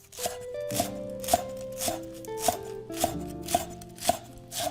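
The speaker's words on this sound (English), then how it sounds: "let's start with the green onions. It will give our dish a little sharpness. You need to cut it as small as possible." A knife chops green onions finely on a cutting board in a quick, even rhythm of crisp thuds, close and clear. Soft background music plays beneath and no one speaks.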